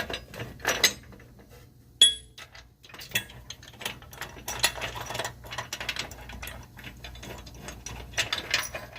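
Ratchet and hand tools working on the mounting bolts of a Rugged Ridge front bumper on a Jeep Gladiator, with repeated clicking and metallic clinks in irregular bursts, close by, with no talking.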